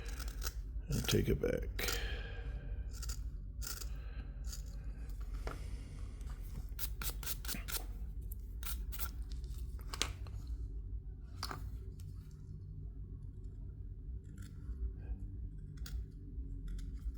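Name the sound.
carving knife cutting cottonwood bark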